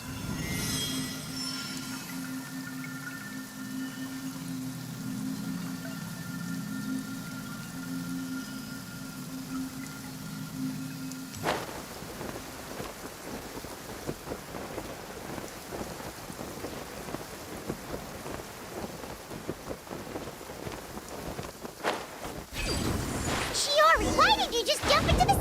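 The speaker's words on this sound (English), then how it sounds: "Taking shelter and listening to the rain cleanse the earth makes me feel safe." Steady rain pours in Genshin Impact, first a softer patter with a low hum, then a denser, louder downpour that swells near the end, with rumbling thunder and a voice talking over it.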